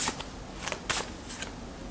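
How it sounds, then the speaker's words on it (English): Tarot cards being shuffled during a live reading, a few soft papery riffles and flutters over about two seconds, close and fairly quiet with no talking. "I'm shuffling upside down."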